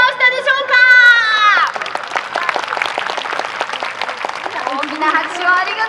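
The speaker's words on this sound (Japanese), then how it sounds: "拍手をありがとうございます" Crowd applause after a fireworks show at Greenland: after a few words from an announcer, dense, steady clapping from a large outdoor audience fills several seconds, with the voice returning over it near the end.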